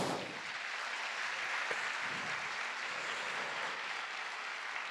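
An audience claps in a concert hall after a live folk song performance, a dense, even wash of many hands that holds steady, full and loud, throughout.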